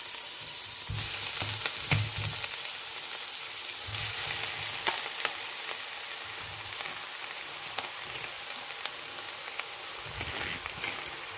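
Kale dropped into a pot with softened onion and carrot for German Grünkohl, producing a steady continuous sizzle with faint crackles and occasional stirring clinks, no talk.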